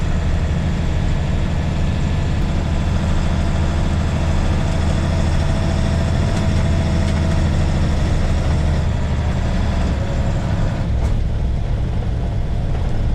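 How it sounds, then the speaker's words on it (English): International 4700 truck engine droning steadily while descending a long hill, a loud continuous low rumble with faint whine, close and unbroken throughout. "Now I'm going down a big hill and it'll probably pop out of gear"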